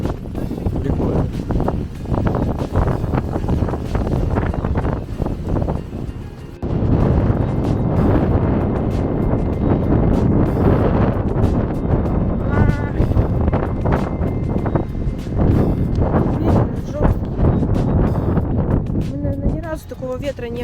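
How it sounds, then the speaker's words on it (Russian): Strong wind gusts during an unusually windy day in Krasnodar buffet the microphone in a continuous, heavy roar for the whole stretch, with voices partly audible beneath it. "Такого ветра не было. Аж сдувает."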